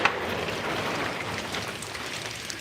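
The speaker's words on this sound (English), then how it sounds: "So it's raining pretty good out here." Steady rain falling outdoors at night, a dense even hiss of drops on surfaces, moderately loud and unbroken for a few seconds with no talk.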